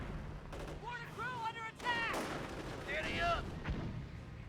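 A US mortar fires in Company of Heroes 1 amid battlefield noise. Several dull booms are mixed with tonal, voice-like in-game chatter over a steady rumble.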